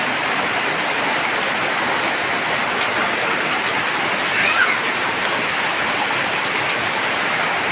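Heavy rain pouring down in a steady, dense hiss that stays loud and unbroken throughout, with no pauses.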